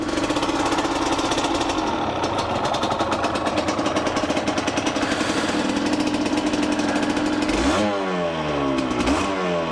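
A 2003 Yamaha TDR 125 two-stroke motorcycle riding off, its engine buzzing loudly and continuously up close, rising in pitch as it accelerates through the gears near the end.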